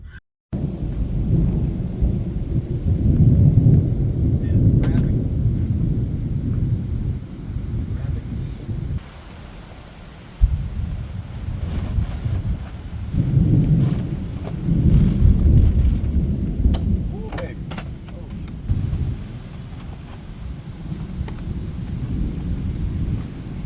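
Thunderstorm with rain and hail, heard while parked boondocking in a vehicle with a cracked windshield: long rolling thunder rumbles in heavy waves, sharp pelting impacts and wind buffeting the microphone, loud and close.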